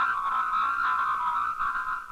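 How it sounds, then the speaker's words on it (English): A compressed, squeezed voice sent over a telephone line, heard as a narrow, garbled band of warbling tones that runs steadily for about two seconds, unintelligible and with no clear words. "A squeezed message sounds like this."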